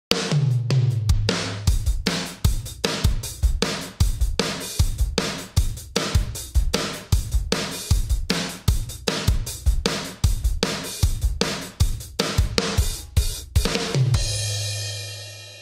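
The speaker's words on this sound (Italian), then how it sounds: "Come batterista ho usato il Virtual Drummer Heavy." The UJAM Virtual Drummer Heavy plugin plays a heavy programmed rock drum pattern, with punchy kicks, snare hits and crashing cymbals in a steady driving rhythm, loud and clear, ending on a ringing cymbal.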